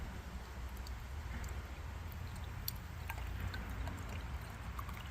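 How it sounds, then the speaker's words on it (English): Fuel poured from a bottle into the exhaust ports of an SRT4 PCE cylinder head, a soft, continuous trickling pour that stays faint and steady throughout, with no voices. "going to fill all these exhaust ports with fuel that I have in this bottle here"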